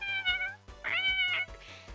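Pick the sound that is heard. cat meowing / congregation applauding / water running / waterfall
cat meowing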